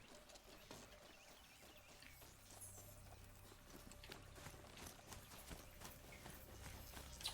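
Horse hooves clip-clopping in the video game Horizon Zero Dawn, a faint, steady walking rhythm of hoofbeats with light background game sounds.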